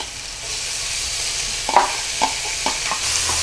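Pork stir-frying in a pan with chopped ginger, scallion and garlic, loud steady sizzling punctuated by several spatula scrapes and taps, with no voices.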